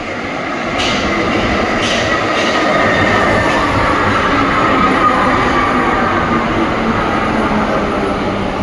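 A loud, close train rumbles continuously, wheels rolling with a steady roar and a few faint metallic clicks.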